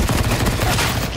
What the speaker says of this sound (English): How many times do I have to fucking shoot?